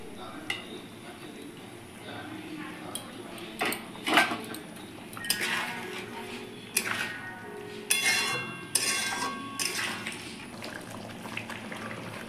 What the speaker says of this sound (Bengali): এবার আমি ঢাকনাটা তুলে নিচ্ছি। এবার আমি এক এক করে পনিরগুলো এর মধ্যে দিয়ে দেবো।